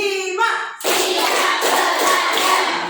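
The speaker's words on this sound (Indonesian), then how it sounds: "Tepuk 1, tepuk 2, tepuk 3, tepuk 4, tepuk 5." Students clap in unison in a classroom, sharp hand claps that start after a short stretch of voice and then continue as a loud, fast, steady run of claps.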